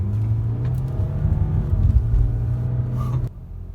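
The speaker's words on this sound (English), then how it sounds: "all I can do is downshift" A BMW car on a hill road downshifts, the engine swelling into a loud, rough rev that holds for about three seconds before dropping sharply to a quieter rumble.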